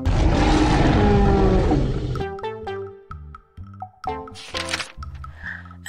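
A dinosaur yell effect in a children's storybook reading about dinosaurs going to school: a loud, rough roar lasting about two seconds, followed by a bouncy musical sting with separate plucked notes.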